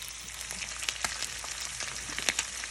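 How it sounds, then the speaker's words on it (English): Steady, close crackling and sizzling of bacon frying in a pan, with scattered sharper pops. "Frying up a little test batch."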